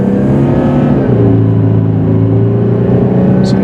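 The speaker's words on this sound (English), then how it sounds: "you can hear that turbo kicking in" A 2013 Volkswagen Touareg TDI diesel SUV accelerating under full throttle, heard from inside as a loud, steady engine drone with rising tones as the turbo spools up.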